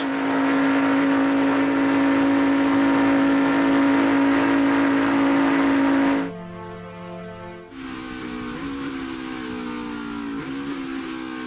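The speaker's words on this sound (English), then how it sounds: "From inside Jeff Gordon's car. Listen to this." A loud NASCAR race car engine roars steadily at high revs from on board, then drops and shifts pitch as it changes gear and accelerates again.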